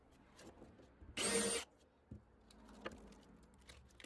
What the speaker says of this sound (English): Just making a nice countersink